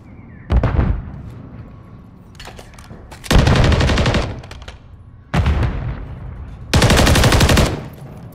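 Automatic gunfire in Call of Duty Modern Warfare 3, four loud sustained bursts of rapid shots separated by quieter gaps, each burst lasting about half a second to a second with dense sharp reports.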